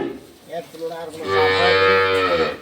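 A dairy cow at a farm lets out a single long, loud moo close by, rising in strength and holding before trailing off.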